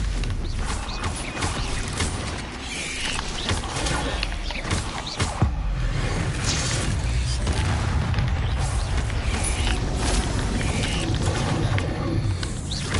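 A Stupefy spell cast in a Hogwarts video game, heard as a loud, dense wash of rumbling, mechanical clatter and creaks, with a sharp boom-like hit about midway and a steady roar throughout.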